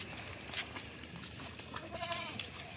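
A goat bleats a few short times at moderate distance on a flood-affected farm, the calls standing out over low background noise with no talking.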